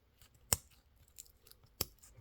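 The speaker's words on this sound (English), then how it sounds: "take your scissors and just follow it round" Scissors snip through a plastic sheet around a resin cabochon, two sharp, distinct cuts about a second apart, close and clear over a quiet background.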